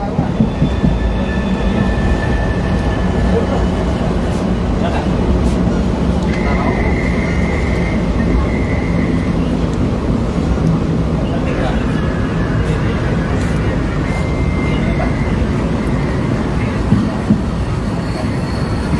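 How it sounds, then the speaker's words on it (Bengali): A train runs steadily on its approach into Bardhaman station, with a continuous close rumble of wheels and carriage noise and a few brief high squeals over the top, while voices talk in the background. "এটা হচ্ছে বর্ধমানের দিকে ঢুকছে ট্রেন"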